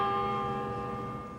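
A church bell rings out in town, a single sustained metallic strike with rich humming overtones slowly decaying, moderately distant and fairly quiet, with no voices.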